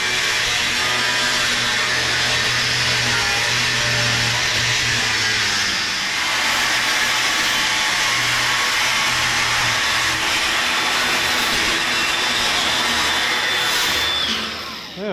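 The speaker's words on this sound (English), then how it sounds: "I'm gonna cut these first" Metal pieces for a steampunk treasure chest being cut, likely with an angle grinder, a steady loud whine running continuously through the whole stretch with slight dips, close up and without talk.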